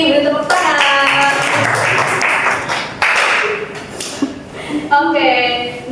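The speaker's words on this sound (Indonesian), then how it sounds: "Beri tepuk tangan." Classroom students clap for the top post-test scorer, a dense burst of handclaps that swells and fades over several seconds, with voices talking over it near the start and end.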